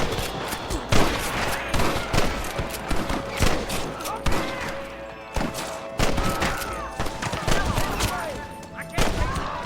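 Rapid gunfire in Red Dead Redemption during a fight with rustler guards, loud repeated shots in dense bursts with ricochets and echoing cracks throughout, voices shouting under the shooting.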